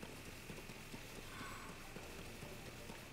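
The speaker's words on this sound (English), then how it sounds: "Your horse is right here. Don't run away." Horse hooves clip-clopping in the video game Tears of the Kingdom, a faint steady rhythmic patter under a constant noisy game backdrop.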